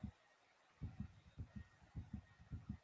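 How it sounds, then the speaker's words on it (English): Steady heartbeat sound effect in a video game, paired low thumps repeating about every half second, soft and muffled with no speech. "What do we hear? Heartbeats."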